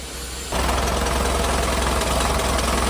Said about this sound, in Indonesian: Suara pompa hidrolik aman.